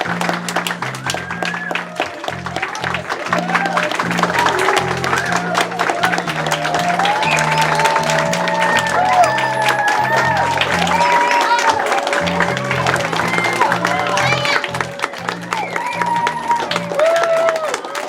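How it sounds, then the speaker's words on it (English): Audience at an elementary school third-grade play breaks into steady, loud applause mixed with children's cheering and shouts, sustained for the whole stretch with a low musical backing underneath. "Okay, we can do better than that. Let's do some applause."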